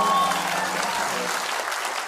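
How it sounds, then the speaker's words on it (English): A studio audience claps and cheers at The Late Show with Stephen Colbert, a short loud burst that gradually fades, with voices mixed in. "the applaud signs were lighting up pretty bright in that studio"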